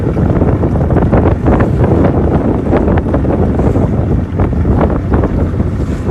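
A boat's engine drones steadily and loudly throughout, mixed with heavy wind buffeting the microphone and rushing water.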